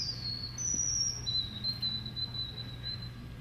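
Whistled human imitation of a white-throated sparrow's song, a few clear high sustained notes held and stepped in pitch over a low background hum at a talent show.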